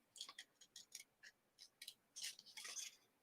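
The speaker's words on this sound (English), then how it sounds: "And you do want to be closing your scissors as you go, because otherwise you'll be ripping the paper if you don't." Scissors snip through scrap paper for a border, a quick series of crisp, close cuts in short bursts, grouped irregularly with brief pauses between them.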